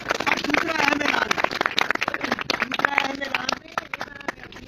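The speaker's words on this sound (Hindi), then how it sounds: "लो जी भरपूर ताली तो होनी चाहिए।" An audience gathered around a performer breaks into brisk, uneven clapping, fairly close, with a voice speaking over it throughout.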